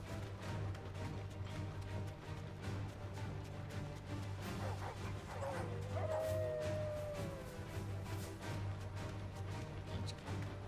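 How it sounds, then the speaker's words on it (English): Rabid dogs in Final Fantasy XVI give scattered barks, yips and a drawn-out howl or whine, fairly faint against a continuous hum of game ambience. "Rabid dogs."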